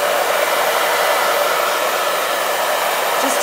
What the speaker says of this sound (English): Let's hit this with the hairdryer quick